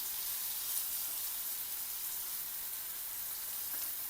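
Stuffed capsicums frying in a pan with turmeric and chopped tomato, giving a steady, close, even sizzle with no other sound.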